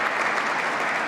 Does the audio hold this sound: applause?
yes